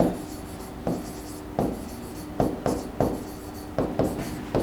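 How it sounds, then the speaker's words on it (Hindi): Writing on a board during a lesson: a run of quick tapping and scratching strokes, irregular and close, with brief pauses between bursts and no talk over it. "अब सेकंड सेंटेंस में लिखता हूं"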